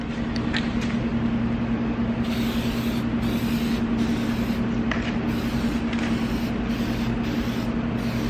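Hyperdip gloss black coating hisses from a spray can onto a Mercedes C-Class side mirror, a continuous close aerosol spray with a few short breaks and small pops.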